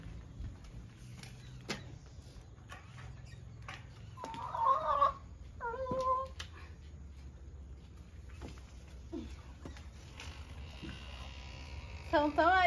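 A few short clucks from chickens nearby, scattered through the clip over a low steady background hum.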